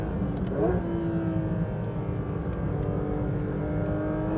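A Porsche 992 GT3 RS engine climbs in pitch as the car accelerates out of a corner, a close, steady mechanical drone with rising harmonics heard from inside the car, with no voices.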